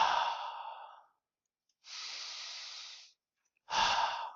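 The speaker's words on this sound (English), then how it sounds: "So in through the nose and exhale through the mouth." Deep breathing for relaxation: in through the nose and out through the mouth. Three long, soft breaths come close to the mic, separated by short silences.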